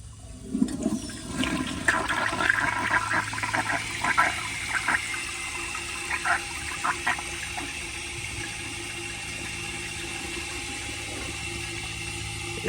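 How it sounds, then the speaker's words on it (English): A 1983 Eljer Hygeian toilet flushes up close: a rush of swirling water and gurgling through the first half, easing into a steady hiss of the tank refilling. "But here is another flush"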